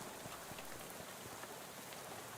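Rain in the video game Shadows Over Loathing, a faint, steady hiss of downpour with scattered droplet ticks, continuous and even throughout.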